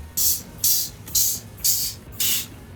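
Five short hissing bursts of a spray bottle applying emulsion remover to a screen printing screen, evenly spaced about half a second apart, close and fairly loud over a quiet low rumble.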